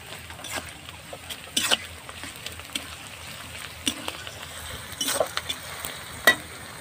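Onion and ginger paste frying in a pan for Bengali chicken kosha, a low, soft sizzle broken by scattered scraping strokes of a stirring spoon, several louder clusters in irregular rhythm; no talking.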